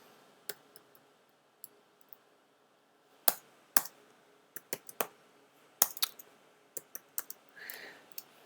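Someone types text on a computer keyboard, with sparse, irregular key clicks that come in quick bursts over quiet background, fairly close and crisp.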